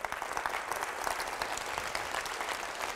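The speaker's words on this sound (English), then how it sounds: "Give yourselves a round of applause." Nearly a thousand people in an auditorium at a Hero Round Table event applaud together, a dense, steady wash of clapping sustained evenly throughout without any voices on top.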